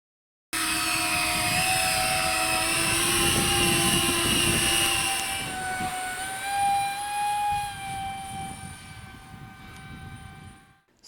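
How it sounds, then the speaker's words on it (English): A 3D-printed VTOL model jet takes off vertically, flies a pattern and hovers, making a loud, close, steady jet-like whine with shifting pitch that eases as it settles and fades at the end. "I think here we just did vertical takeoff, then one pattern and stop in the air"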